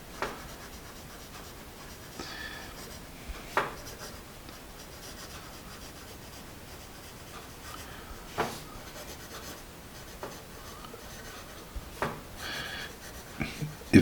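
A vintage Sparco premium pencil, one of the firmer grades, scratches steadily across paper at close range in long stretches of soft rasping, punctuated by sharper strokes and taps, with no talk.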